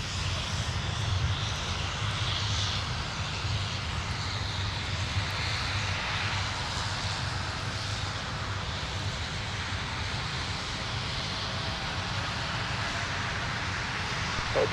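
A jet arriving on runway 12 right at Minneapolis–Saint Paul airport, a steady broad engine roar held at even loudness throughout, distant rather than close, with no speech over it.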